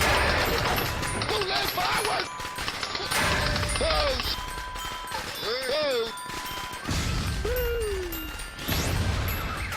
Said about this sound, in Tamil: இந்த இடத்துல பட்டாசு இப்படி வெடிக்கிறதுக்கு என்ன காரணம்னு தெரியல.